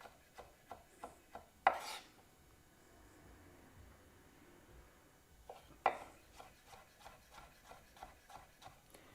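A knife chopping vegetables on a cutting board, quick evenly spaced taps in two runs, with a sharper scrape or thud at the start of each run, close and clear.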